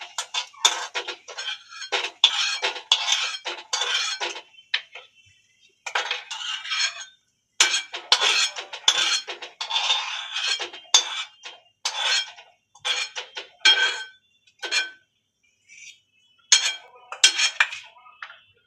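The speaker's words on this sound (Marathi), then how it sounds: "आता ते आपण काढून घेऊया एका डिश मध्ये।" Roasted dry fruits being scooped from a pan into a dish, heard as a quick run of close clinks and scrapes of metal utensils, in irregular bursts with short pauses between.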